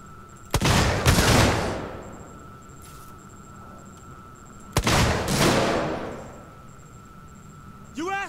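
Gunfire in the video game Alien: Isolation: two heavy shots several seconds apart, each a sharp crack followed by a long booming decay, over a quiet humming background with a faint beeping tone.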